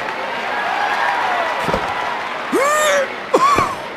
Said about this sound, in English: This crowd is going berserk.